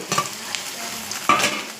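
Fish curry ingredients fry in a pan, a steady close sizzle broken by a few scraping stirs of a spoon, with no talking.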